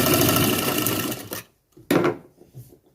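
A sewing machine stitches fabric for an asan seat in a dense, fast whirring run that stops abruptly, then a second short burst follows after a brief pause, close and loud, with no talk.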